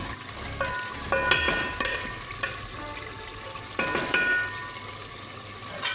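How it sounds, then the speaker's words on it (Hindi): Masala for shaljam gosht sizzles and fries in hot oil while it is stir-fried, with steady crackling and repeated scrapes and clinks of a spoon stirring in the pan. "ये मज़ीद हम लोग इसको 5 से 10 मिनट ऐसे भुनाई करेंगे ताकि इसका मसाला सही से पक जाए।"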